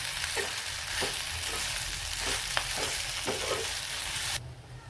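Pasta tossed with pasta masala and a little coriander is stirred in a hot pan, a steady sizzle broken by a few soft scraping strokes, with no talk, before the hiss drops away near the end.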